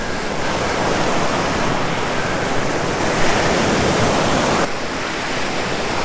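Ocean surf rolls in at Nimitz Beach on Oahu, a loud, steady wash of breaking waves with wind buffeting the microphone and no voices.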